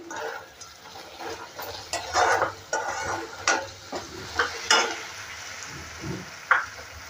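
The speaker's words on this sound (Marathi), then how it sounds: "आता हे अर्ध टमाटे घेतलं होतं ना चिरून, ते टाकते. ते पण आपल्याला परतून घ्यायचं आहे." Halved tomatoes sauté in a hot tempering for a pithla meal, with a soft sizzle under a run of uneven, close stirring scrapes and knocks of a spoon in the pan.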